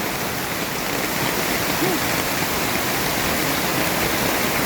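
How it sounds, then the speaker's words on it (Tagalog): Sudden heavy rain pours down during a flood beside a swollen, blocked river in Las Piñas, making a loud, unbroken rushing hiss that fills the clip from start to end. "grabe, biglang buhos ang ulan."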